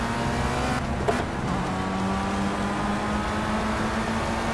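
A race car in Project CARS at Donington Park, in an FR Euro Trophy round, roars close and loud, with a brief clunk as the driver brakes hard, then the engine note settles and holds steady as it drives on; no one talks.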